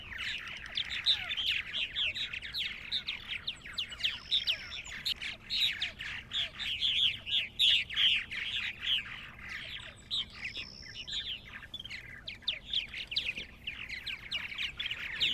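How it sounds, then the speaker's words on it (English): Purple martins chattering and squawking around a backyard birdhouse on a farm, a steady stream of overlapping chirps and croaks with a few higher whistled calls, moderately close with no talking. "So the purple martins really depend on people to provide them with housing now."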